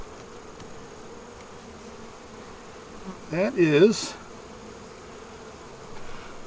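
Honeybees buzz around a hive frame of stored food during a hive inspection, a low background hum rising to a brief loud close buzz midway, with a voice speaking briefly.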